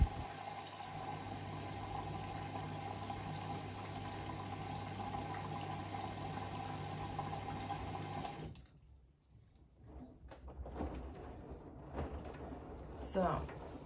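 A Bosch washing machine fills with water for about eight seconds, a steady loud rushing under a constant drone, then cuts off, leaving quieter clicks and faint shuffling.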